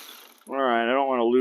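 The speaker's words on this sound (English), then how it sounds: "I'm going to take the two bolts off here in the back" Ratchet removing the bolts from a front brake caliper bracket on a Spec Miata race car, giving a quick, close whirring buzz of clicks that starts abruptly and runs for about a second.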